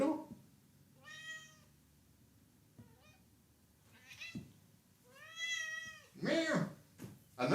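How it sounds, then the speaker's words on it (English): A pet cat named Doodle meows repeatedly at home, several drawn-out, rising and falling calls spaced across the stretch, with a louder, harsher meow near the end; no talking. "Meow. I know what you want."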